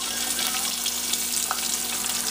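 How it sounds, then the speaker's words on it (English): Steady crackling sizzle of french fries frying in hot oil, continuous and close, with a brief brighter pop partway through; no voices. "Now that sounds like something's frying."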